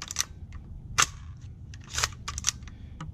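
Bolt of an LMT PDW rifle being cycled with an empty P mag, several sharp close metallic clicks and clacks spaced irregularly over a quiet background.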